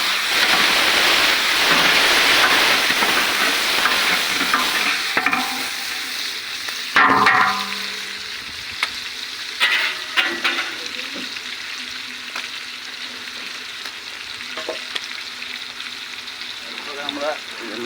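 Mung dal with onion and garam masala frying in a pan for an iftar meal, a steady loud sizzle that gradually fades into softer crackling, broken by clanks and scrapes of stirring, with no one speaking.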